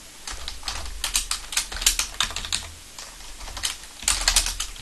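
Fast, uneven keystrokes clatter on a computer keyboard in bursts with short pauses, close and clear, as commands are typed into a Linux shell.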